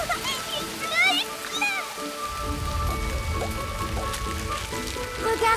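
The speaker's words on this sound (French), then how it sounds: "Il pleut." Cartoon rain begins falling in an animated children's show, a steady broadband patter that swells after a short pause, with a narrator's voice and light music over it.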